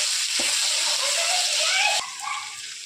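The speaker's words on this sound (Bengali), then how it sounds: "রসুন বাটাটা দিয়ে একটু ভেজে নিলাম" Garlic paste and chopped onion in hot oil give a loud, close, broadband sizzle that eases to a softer fry after about two seconds, with a faint voice in the background.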